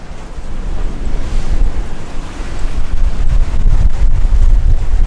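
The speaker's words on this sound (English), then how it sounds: "The wind is starting to fill in a little bit." Aboard a sailing catamaran at sea in about 10 to 13 knots of wind, steady wind buffeting the microphone blends with the wash of waves against the hulls, continuous and loud with no talk.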